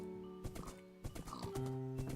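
A horse in the Minecraft modpack GregTech New Horizons gives a short neigh mixed with quick clip-clopping hoofsteps, all crisp and close over a couple of seconds.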